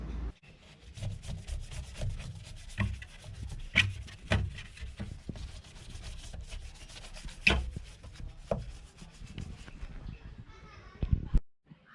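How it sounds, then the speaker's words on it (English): A brush scrubs an Audi A3 engine bay with dish soap, making faint, irregular scratchy strokes close by against a quiet background. "take a brush or something like that and try to loosen up any attached dust or grease particles on the surface"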